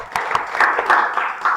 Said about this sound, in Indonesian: Jadi di sini tepuk tangan buat kita semua.